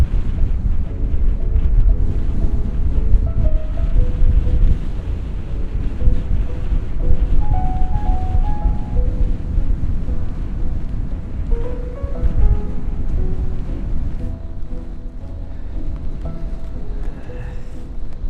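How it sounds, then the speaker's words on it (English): Strong wind roars steadily against the microphone in Iceland's Westfjords for the whole stretch, a loud continuous rushing with gusts rising and falling, no voices. "Very windy."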